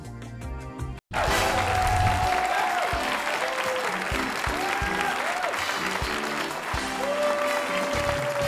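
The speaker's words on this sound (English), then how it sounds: "Boisterous crowd tonight in downtown." A boisterous downtown crowd applauds at a televised academic quiz show, loud sustained clapping that bursts in after a brief pause and carries on steadily to the end.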